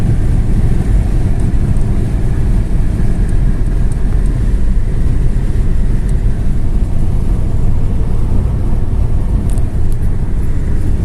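Renault Megane 2 from 2008 with a 110 hp Euro 5 diesel engine and six-speed gearbox, driving with a loud, constant low engine and road roar from inside the cabin, no talk.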